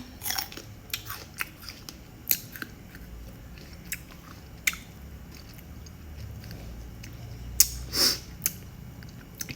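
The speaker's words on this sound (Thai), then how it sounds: "กินทั้งเม็ดเลย" Someone chews a whole sour fruit close to the microphone, giving irregular wet crunches and bites over quiet background.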